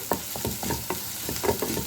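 Sautéing in a pan while preparing methi thepla, with repeated spoon scrapes and stirring knocks over a soft, continuous sizzle.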